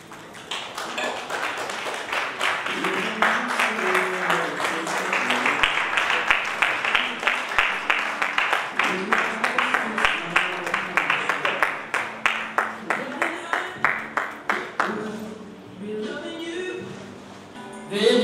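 Guests at a civil wedding ceremony clap as the groom enters, first in a broad wash of applause over music, then in steady rhythmic claps keeping time before fading.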